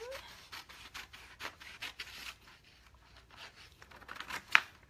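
Printed paper pattern pages trimmed by hand, heard as a run of soft rasping cuts and rubbing strokes, close and quiet, with one sharper snip near the end.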